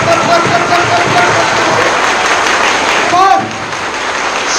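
A crowd of school students clapping together in a hall, dense continuous applause at close range that thins out near the end, with voices mixed in.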